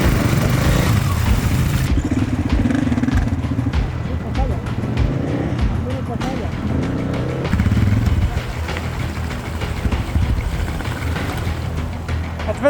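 Several motorcycles on an off-road adventure ride in Jordan near the Dead Sea, steady engine rumble running throughout at close range, with wind or water noise and people talking over it.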